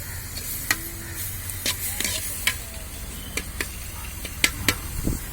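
Tomatoes sizzle and fry in browned ginger garlic paste in a kadai on a beach, with steady hiss, punctuated by sharp clicks and scrapes of stirring utensils.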